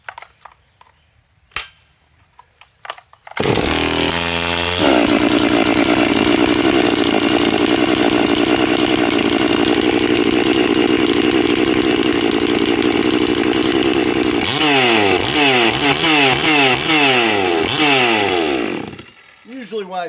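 A Bluesaws G444 chainsaw with a fault kicks into life after a few quiet seconds, then runs loud and steady near the listener, with rhythmic revving surges toward the end before it suddenly cuts out.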